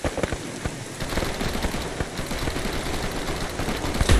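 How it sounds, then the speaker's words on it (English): Sustained automatic machine gun fire in the Arma 3 military shooter, a dense rattling stream of bursts with sharp individual reports, steady and fairly loud throughout without talk. "They've got an MG on the northeast."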